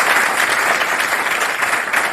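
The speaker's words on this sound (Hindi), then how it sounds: "एक बार समवेत तालियां बजाइए" At a Hindi poetry recital, the seated audience claps together in a loud, dense, continuous round of applause that stays even from start to finish with no talk on top.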